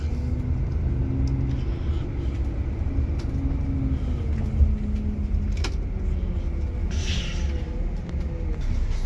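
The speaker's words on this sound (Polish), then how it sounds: "Jesteśmy w autobusie." Steady low engine rumble and road noise from inside a moving bus, with faint rattles and a few brief clicks over the drone, no talking heard.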